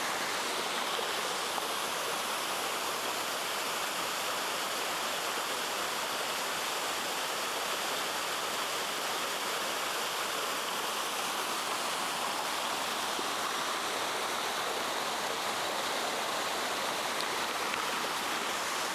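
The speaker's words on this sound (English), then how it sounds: "I decided to make the side trip to Kings Creek Falls." Kings Creek Falls, a waterfall on the Foothills Trail that drains toward the Chattooga River, roars as a steady, loud, broadband rush of falling water, close and unbroken for the whole stretch with no voices.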